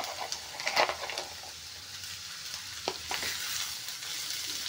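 Vegetables, including cabbage, for veg fried rice stir-fried in a pan: an even frying hiss with intermittent scraping and tossing strokes, moderately loud and close, without speech.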